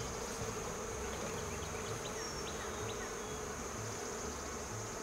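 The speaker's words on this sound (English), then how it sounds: "Now this hive is a very small swarm that I caught." Honey bees from a small caught swarm buzz around an open beehive, making a dense, continuous drone with individual bees whizzing close by.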